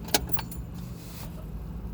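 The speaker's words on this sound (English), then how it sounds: "turn on the ignition to the on position" Keys jangle and click as the ignition is turned to the on position in a 2003-2006 Scion xB, a brief close metallic rattle followed by a quiet car interior hum.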